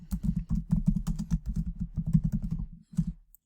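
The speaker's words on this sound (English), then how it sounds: "So now I will type in the information that we need for the graph here." Someone types on a computer keyboard, entering data for a portfolio graph, in quick irregular clusters of close keystrokes with one short pause near the end.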